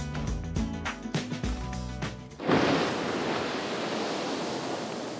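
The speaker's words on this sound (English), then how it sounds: "The Strokkur geyser is one of the region's most active. It erupts about every 5 to 10 minutes" Strokkur geyser in Iceland bursts into eruption, a sudden loud rushing roar of water and steam that breaks in after quieter sounds and keeps surging steadily outdoors.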